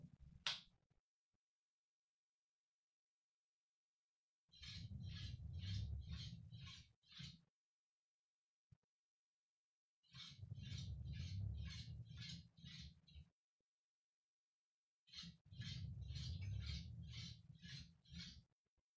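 A Lego Powered Up owl model plays its hooting sound in three separate bursts, each a few seconds long with a rapid pulsing series of calls, separated by silence.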